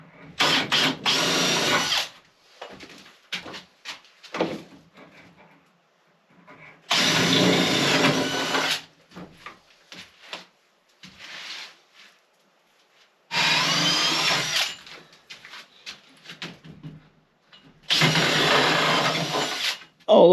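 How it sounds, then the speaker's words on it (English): Power drill with a 1 3/8-inch hole saw boring holes through wooden wall studs for electrical conduit in a shipping container build, loud bursts of cutting in four runs of about two seconds each, separated by quieter handling and clatter. "I gotta drill out 1-inch holes in the studs, maybe even bigger to fit the conduit."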